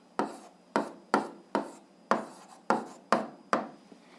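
Chalk or pen strokes on a board while writing out an algebra solution, eight sharp scratchy strokes in a steady rhythm, close and clear with no talking.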